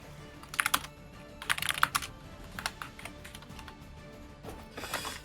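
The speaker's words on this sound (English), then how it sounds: "I think you have the loudest keyboard on the planet" Rapid bursts of clattery clicking from a loud computer keyboard used by a player during an esports match, typing in quick flurries with short pauses, no talk heard.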